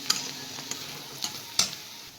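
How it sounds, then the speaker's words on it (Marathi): Peanut powder is stirred into bitter gourd in a pan with a faint steady sizzle underneath, punctuated by four or five light, crisp scrapes and clicks of the spoon against the pan, close and quiet. "शेंगदाण्याचं कूट टाकून घेते इथे."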